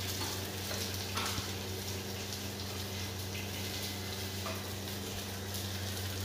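Small onions frying in a pan with a pinch of salt, green chillies on the way, give a steady, low sizzle throughout with a constant background hum and no talk.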